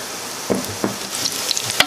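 Onion sizzles as it fries in oil for a chicharrón in red sauce, a steady crackling hiss broken by a few soft clatters of stirring, with no talk.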